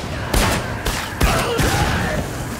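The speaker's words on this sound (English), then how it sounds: "That was a good explosion." Explosions and blasts in the shooter game SiN Episodes: Emergence, several sharp loud booms at irregular intervals with rumbling decay between them, close and without talk.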